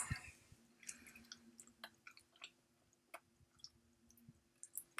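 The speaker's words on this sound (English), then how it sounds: "Keep chewing." Close, quiet chewing of an Atomic Fireball hard candy, with irregular wet clicks and squishy bites scattered across the clip, no talking.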